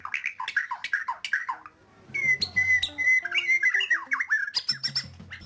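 A Bornean white-rumped shama, a prized competition songbird, sings up close: sharp squawks and harsh chattering calls followed by clear, rich whistled phrases that rise and fall, loud and alone.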